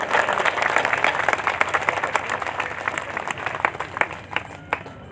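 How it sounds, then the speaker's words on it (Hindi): An audience at a large Hindu religious assembly in Moradabad applauds to welcome the Puri Shankaracharya, dense continuous clapping from a big crowd that holds steady and then thins slightly toward the end. "मैं चाहूँगा एक बार ताली बजाकर स्वागत करें"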